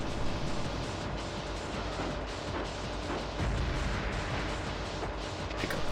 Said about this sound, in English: I'm just holding down R1 because that's the machine gun button.